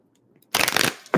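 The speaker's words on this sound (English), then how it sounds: "let's give these a good shuffle." Tarot cards being shuffled by hand during a live reading, two brisk bursts of riffling, a longer one followed by a short one, close and fairly loud after a quiet start.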